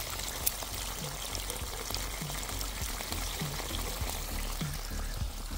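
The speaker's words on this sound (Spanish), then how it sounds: "Ahí está cayendo todo el agua, ¿ve?" Water pours from a garden drainage pipe into the ground, a soft continuous splashing stream with faint gurgles, heard quietly and steadily with no voices.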